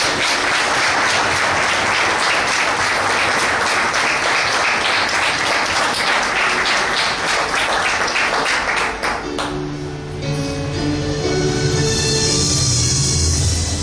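Church congregation applauding together, a dense, steady wash of many hands clapping for about nine seconds before it thins out as music and voices take over.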